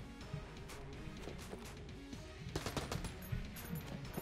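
Rapid video-game gunfire from Enter the Gungeon rattles continuously in dense bursts of shots, with sharper volleys near the end and no talking over it.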